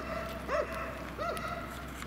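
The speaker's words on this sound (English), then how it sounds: "There's an annoying goddamn dog if I ever heard one." A dog barks twice along a rail trail through White Haven borough, two distinct, evenly spaced barks at moderate distance over a steady outdoor background hum, with no talking.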